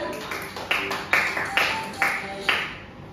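A class gives a round of clapping for a student, several separate bursts of hand claps spaced about half a second apart, fairly close and moderately loud.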